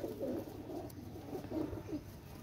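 Pakistani pigeons coo softly and repeatedly in a rhythmic, throaty series of low calls, close by and alone.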